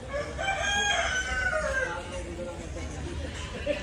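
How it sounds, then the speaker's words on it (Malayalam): A rooster crows once, fairly near, its long call rising over a busy hum of chatter and market noise at a meat market in Dimapur, Nagaland, followed by indistinct talking. "ഇവിടെ കോഴിയാണ് നമ്മുടെ കൊക്കരക്കോ"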